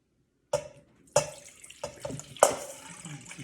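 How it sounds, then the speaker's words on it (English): Warm water is poured into a small mixing bowl in a few separate splashing bursts, each one trailing off into a quieter trickle, close by and with no voices. "So in the smaller bowl, we're going to put the warm water."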